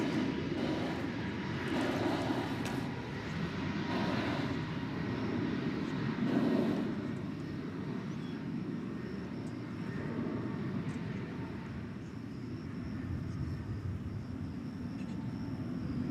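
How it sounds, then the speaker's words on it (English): An American Airlines Airbus A321neo at DFW airport produces a steady, distant jet engine roar that holds level for the whole stretch, with a faint whine riding above it and no talking. "American Flight 2130 from here to Portland, Oregon. It's an Airbus"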